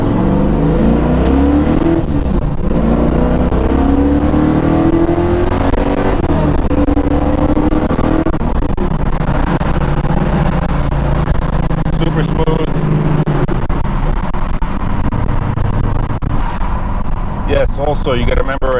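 A 4th-gen Camaro with cheap shocks and springs, poly torque arm mount and stock rubber motor mounts, driving over a rough road; a steady engine rumble and road noise run throughout, with someone talking over it.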